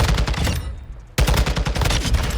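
Loud, dense automatic gunfire from a Call of Duty match, rapid bursts packed close together, broken by a brief near-silent gap before the shooting resumes just as heavily.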